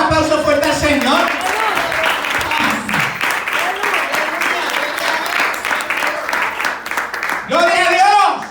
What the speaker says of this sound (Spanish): Vamos a dar un aplauso fuerte al Señor.